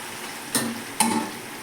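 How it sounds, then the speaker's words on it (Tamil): Cooked mutton is stirred into masala for biryani, with two short scraping, clinking strokes of a spoon against the pot over a quiet background. "மசாலாவில் நல்லா கலந்து விட்டுணும்"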